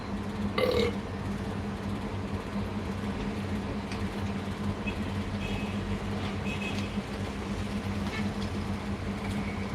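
A belch after drinking a carbonated drink, one short burst near the start, then steady low background rumble and hum for the rest.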